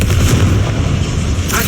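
Confringo, an explosive spell in the video game Hogwarts Legacy, lands as a loud, heavy boom with a rumbling, sustained blast that fills the whole moment.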